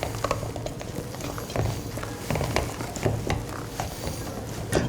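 Chestnut-flavoured whipped cream for a Mont-Blanc yule log is mixed by hand, giving a continuous close, wet stirring and scraping with soft irregular clicks, alone without talk.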